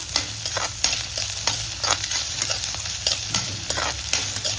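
Onion and green chili sizzle steadily in a pan, with frequent stirring scrapes and clatters punctuating a constant broadband fry, close and fairly loud with no talking.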